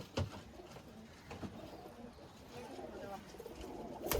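Domestic pigeons of Teddy and fancy breeds coo softly in a backyard loft, low rolling calls repeating in short bursts close by against a steady murmur of background noise.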